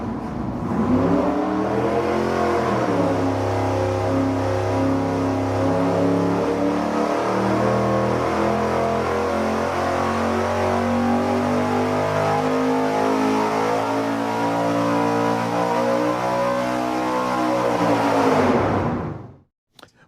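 A V8 engine running on a dyno with sequential fuel injection revs up loud and close, holding a steady high roar for most of the run before cutting off near the end.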